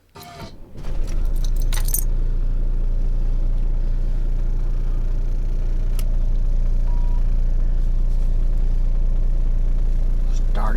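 A motorhome engine cranks briefly with a rattling clatter, then catches and settles into a steady, loud idle rumble that continues without a break.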